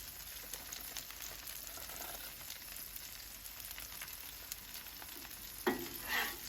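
Philly cheesesteak meat sizzles on a hot Blackstone griddle as a steady frying hiss, with a scrape or stir near the end and no talking.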